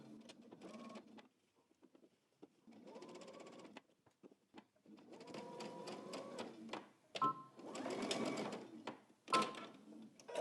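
Sewing machine back-stitching a 1/4 inch seam on a jacket pocket bag, several bursts of close mechanical whirring at changing speeds with short pauses between.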